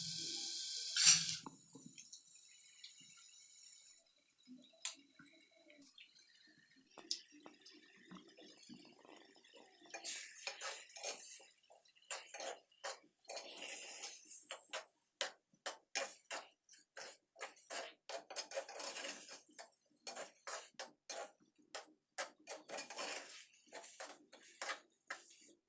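Egg cooking with drumstick flowers in a pan, soft sizzle behind a long run of light scraping and clinking strokes from a stirring spoon, close and fairly quiet, no talk.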